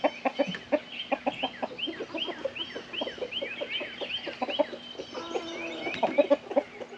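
A rooster clucks in a quick, steady series of short, close calls, with the farmyard otherwise quiet.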